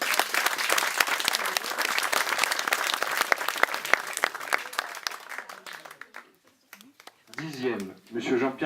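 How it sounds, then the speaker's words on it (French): Audience at a garden eco-challenge prize ceremony applauds the winners with a burst of dense, lively clapping that fades away, followed by a voice speaking. "Je crois qu'on peut les applaudir."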